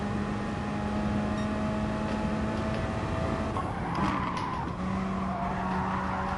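An Alfa Romeo 4C race car in Gran Turismo Sport, its engine droning steadily up close while tyres squeal and skid through a corner, the pitch and hiss shifting midway as the car slides.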